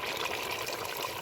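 Water pours into a pot of mountain crab curry, a soft short trickle close by with no voices.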